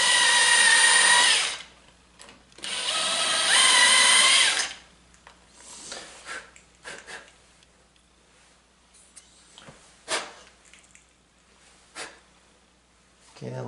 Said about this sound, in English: So I'm going to drill these pilot holes.